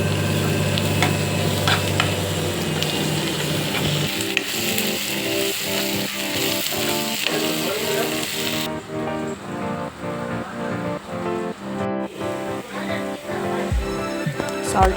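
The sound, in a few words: frying ginger garlic paste in oil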